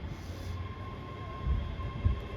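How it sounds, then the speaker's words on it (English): A seven-car ScotRail train pulls into Haymarket station with a low, steady rumble of wheels and a faint tonal hum, heard from the platform at moderate distance with no voices. "And there's that train arriving beautifully."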